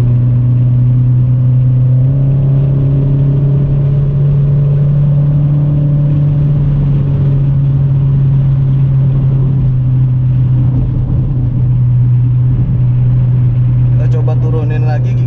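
Toyota MR2 second-generation W20 driving in third gear, a loud, steady engine drone close up from inside the cabin, holding a constant pitch while someone talks over it.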